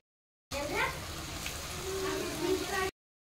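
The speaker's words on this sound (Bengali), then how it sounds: "চর্বিটা দিয়ে একটু ভেজে নিচ্ছি, হলদি গুঁড়া দিয়ে দিলাম" Goat fat frying in a pan with turmeric and chili powder for ghugni, a steady close sizzle lasting a few seconds with faint stirring scrapes.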